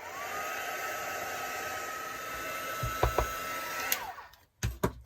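A hair dryer blows steadily on a craft project freshly stained with peppermint tea, a continuous airy whir that holds for about four seconds before cutting out, followed by a few brief clicks and handling knocks.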